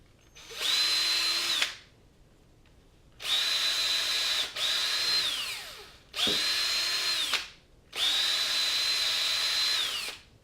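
A power screwdriver drives screws into a racing quad frame in four separate bursts, each a loud, close, high whine that winds up, holds steadily for about a second or two, then stops, with quiet pauses between runs.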